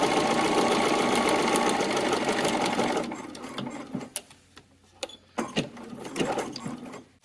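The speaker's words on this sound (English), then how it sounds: "I am now just going to top stitch down the hem of the" A sewing machine top stitches a shirt pocket hem, running loud and continuous for about three seconds before stopping, followed by scattered handling clicks and thumps.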